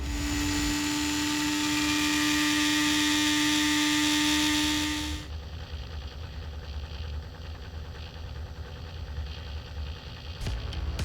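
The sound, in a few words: ECM PCB stator electric motor running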